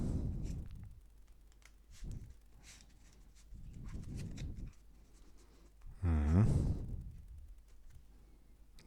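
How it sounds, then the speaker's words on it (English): Repeated soft riffling and sliding of a Virtuoso P1 deck of playing cards being shuffled, including overhand shuffles and cuts, in several separate bursts with pauses between, close and fairly quiet. "more shuffling, switch to overhand shuffling"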